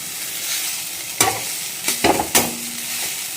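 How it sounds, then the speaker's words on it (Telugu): Tamarind leaves being stirred and fried in an aluminium pan: a steady bright sizzle throughout, broken by a few scraping strokes of the spatula near the middle, close and loud with no talking. "ఇది పుల్లదైన ఇండాలియం బాండీలోనే చేస్తున్నాను, ఇంకొకటి బాండలు కడిగలేదు, అందుకే ఫాస్ట్గా తిప్పేసి తీస్తున్నాను"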